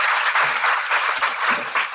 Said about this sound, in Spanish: Los dejo con esos cálidos aplausos que vamos a generar para Jan